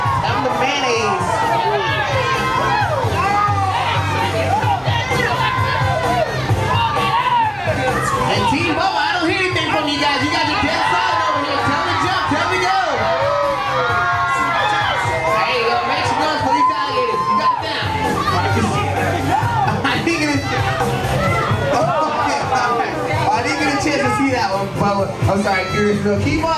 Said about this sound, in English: So keep on screaming, guys. Tell them to jump.